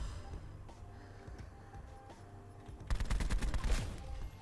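Rapid bursts of assault rifle fire in Call of Duty Black Ops 4, a muffled soundscape of game noise before a loud, dense volley of automatic shots erupts near the end.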